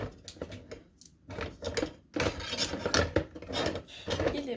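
Utensil scraping and stirring through a creamy potato dish in a kitchen, with repeated rasping, clinking strokes at close range in an irregular rhythm, no talking.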